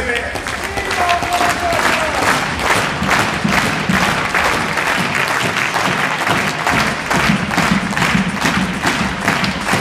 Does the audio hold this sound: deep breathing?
no